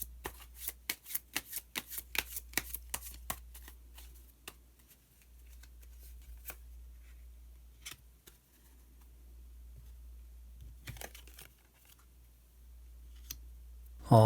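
Tarot cards are shuffled in a quick series of sharp riffling snaps, then a few scattered flicks and slaps as cards are drawn and laid down, close and fairly quiet.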